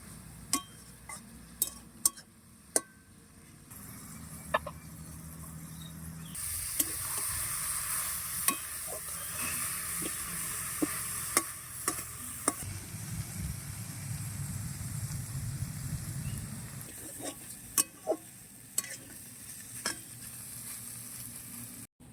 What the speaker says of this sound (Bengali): এইভাবে ভালো করে কষিয়ে রান্না করে নেব।